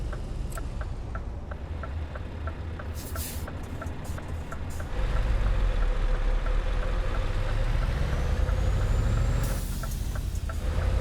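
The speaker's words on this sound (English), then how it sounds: "All these lorry noises are great." A heavy lorry engine in Euro Truck Simulator 2 rumbles steadily, with a regular series of reversing beeps and sharp hisses of air brakes; the engine swells louder midway.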